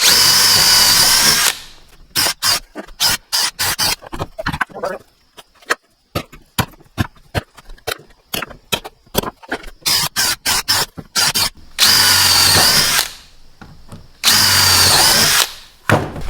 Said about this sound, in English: now we'll drill a 5/16 hole